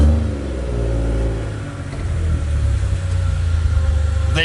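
A race car's engine roars at speed on a practice lap, a loud continuous drone that surges and rises in pitch with small crackles near the end, recorded from inside the car.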